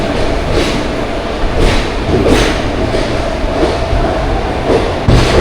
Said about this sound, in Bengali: আমি লোকাল ট্রেনে করে প্রথম পৌঁছে যাব খড়গপুর জংশনে